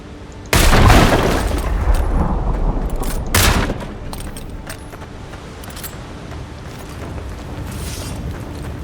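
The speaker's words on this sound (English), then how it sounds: "Shoot gun." Gunshots from the fantasy video game Avowed, two loud, booming blasts a few seconds apart, each trailing into a rumbling decay, followed by quieter ambient game sound.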